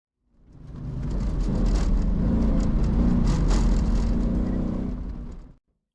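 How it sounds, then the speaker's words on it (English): A car on an autocross run passes over a crest, its engine a loud, sustained roar that swells in and holds steady for several seconds before cutting off, with no talk. "On my second run, I kept the car composed after going over the crest."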